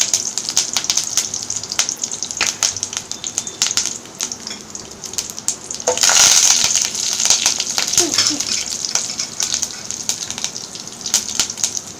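Mustard seeds and urad dal crackle and pop in hot oil in a pan for fish kulambu, a steady dense spatter of sharp sizzling pops that swells louder near the middle, with no talking.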